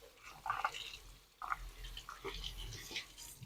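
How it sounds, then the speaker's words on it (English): Tap water runs in a kitchen sink as blueberries are rinsed, a soft, steady splashing with brief louder bursts, close by and quiet, with no talking over it. "Okay, I'm just going to get these rinsed off."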